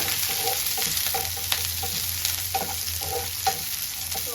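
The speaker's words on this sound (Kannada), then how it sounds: "ಈರುಳ್ಳಿ ಹಸಿಮೆಣಸಿನ್ಕಾಯಿ ಮತ್ತೆ ಕರ್ಬೇವಿನ ಸೊಪ್ಪು ಸೇರಿಸ್ಕೊಳ್ತಾ ಇದ್ದೀವಿ ಇಷ್ಟೊಂದು ನೀಟಾಗಿ ಫ್ರೈ ಮಾಡ್ಕೊಳ್ಳೋಣ" Onion, green chili and curry leaves frying in a pan for shavige bath, a continuous close sizzle with a faint steady tone and soft periodic stirring scrapes throughout.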